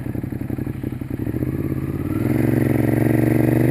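A Ducati Monster 821 Stripe motorcycle engine while riding, close and loud, its pulsing idle-like throb rising into a steady, stronger drone as the throttle opens.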